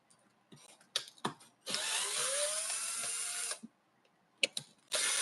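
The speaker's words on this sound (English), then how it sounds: "I'm taking all the screws out." Power screwdriver backing screws out of a Kirby vacuum cleaner, a close whirring burst of about two seconds, framed by sharp clacks and knocks of parts and tools being handled.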